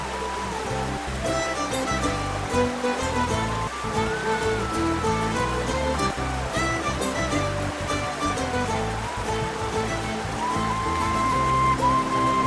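Thirparappu waterfall in Kanyakumari pours with strong force, producing a loud, dense, unbroken roar of rushing and crashing water heard close by for the whole stretch, with no talking over it.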